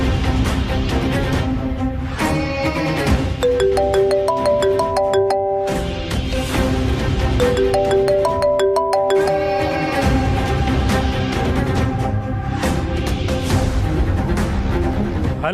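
A mobile phone ringtone plays a bright melodic phrase that repeats twice, loud and continuous over a steady background in a TV drama scene, with no one speaking.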